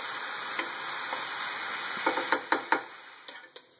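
Venison and onions browning in olive oil, a steady close sizzle with several sharp stirring clicks and scrapes.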